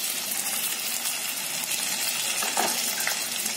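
Crushed ginger and tomato sizzle in oil in a frying pan for dal, a steady close crackling hiss throughout with a brief stirring clatter near the end.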